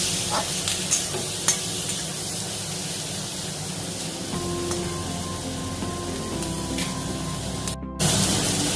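Shrimp and pointed gourd fry with turmeric and chopped tomato in a pan, a steady loud sizzle with scraping stirs throughout, and a brief sharp clatter near the end.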